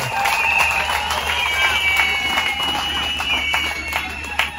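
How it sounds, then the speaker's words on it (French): Audience clapping and cheering for the secretary general at a ceremony of the mines secretariat marking Women's Month, a steady crowd roar with scattered claps and some voices mixed in. "on applaudit très très fort pour le secrétaire général au monde"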